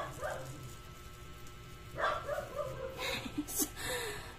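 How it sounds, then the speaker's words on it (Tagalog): A dog barks and whimpers nearby, a few short yips and barks clustered in the second half, with low background noise between them. "Ingay ng aso guys"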